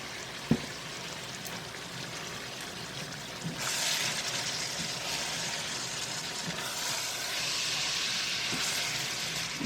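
Meat browns in a pan with a steady hiss that jumps louder after a brief knock, then holds as an even, moderately close sizzle with no talking.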